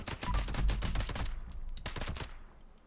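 Rifle gunfire in Fallout 76, a quick string of sharp shots in the first second or so, then a pause and another short burst, loud and close.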